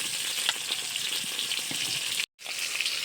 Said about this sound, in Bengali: মাছ ভালোভাবে ভেজে নিয়েছি, তুলে নিচ্ছি।